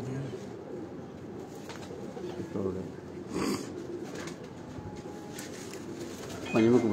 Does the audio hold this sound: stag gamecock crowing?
no